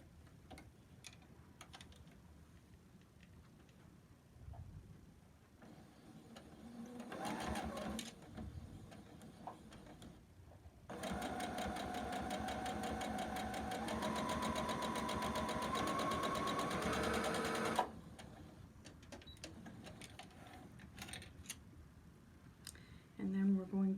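A sewing machine hums steadily for several seconds while stitching red quilt fabric to white, with quieter mechanical ticking and handling noises before and after.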